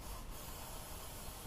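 A steady, soft hiss of 3M high-strength spray adhesive being sprayed onto both surfaces of a personal watercraft seat, continuous and fairly close, with a slight surge at the end.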